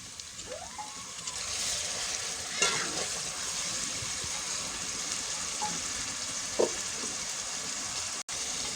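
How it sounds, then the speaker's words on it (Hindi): Tomatoes and green chillies frying in a pan with ginger garlic paste for a Punjabi kadhi pakora, a steady low sizzle with a few faint stirring scrapes and clinks, fairly quiet and without talk. "अब हम इसमें टमाटर और सब्ज़ मिर्च ऐड कर देंगे।"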